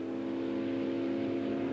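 A 1956 Chevrolet V8 engine revs with a strong, steady droning tone, moderately quiet and continuous throughout, with no voices present.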